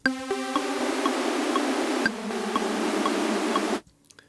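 A harsh, noisy wavetable synthesizer unison sawtooth, heavily detuned into a wash of dissonant buzz, holding a couple of sustained notes before stopping abruptly.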